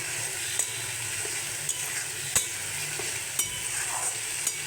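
Chopped, boiled banana flower stirred into fried spice masala, a soft continuous sizzle under sharp, regular clinks of a spoon against the pan, close and moderately quiet with no talking.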